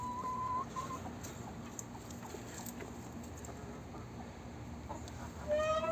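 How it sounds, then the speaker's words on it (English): Backyard chickens pecking at fat grubs, soft scattered clucks and patter in a quiet outdoor setting, with faint chirps and a brief whistle-like tone near the end. "All right, Bubba, let's go see if the chickens like these grubs."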